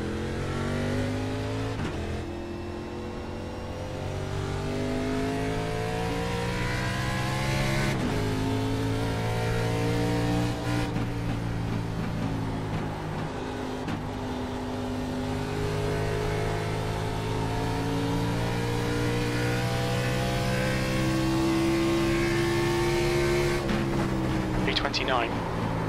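Racing cars in a video game drone with steady, sustained engine tones that rise and shift in pitch as they close in, loud and continuous throughout, with talk over them.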